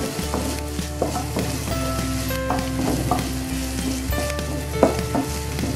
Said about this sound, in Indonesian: kita masukkan sosis dan udangnya masak sampai matang